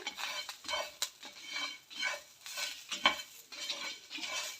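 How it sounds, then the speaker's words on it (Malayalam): A spoon scrapes and stirs chutney made from roasted pappadam with garlic in a pan over a low flame, in repeated short scraping strokes with light clinks against the metal. "ഇനി നമുക്ക് ഇതൊന്ന് ഇളക്കി കൊടുക്കാം."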